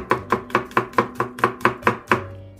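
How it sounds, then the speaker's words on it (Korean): A knife slices garlic into thin slices on a board, about nine crisp, evenly spaced chops in a steady rhythm, close and clear, with no voices. "이렇게 편으로 좀 썰어주세요."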